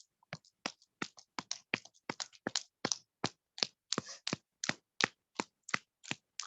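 Reverse clapping with the backs of the hands as an exercise, a fast stream of some thirty crisp, dry claps, irregular at first then settling into a steady beat, close and alone with no talk.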